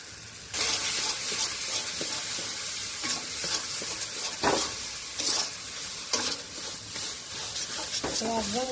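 Leaves are stirred in a hot pan until dry, giving a steady close sizzle with repeated scraping strokes of the spatula throughout, and a voice briefly heard near the end.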